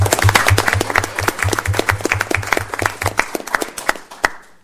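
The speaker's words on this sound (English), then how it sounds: "One more round of applause." Audience at a school board meeting giving another round of applause, a fairly close burst of individual claps that starts strong, then thins into scattered claps and trails off, with a low hum underneath.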